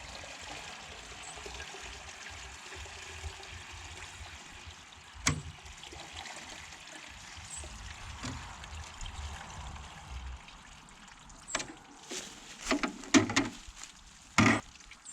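A steady trickle of water runs through a pre-filter for a portable reverse-osmosis filtration system, soft and continuous. Several sharp knocks and handling clatters punctuate it toward the end.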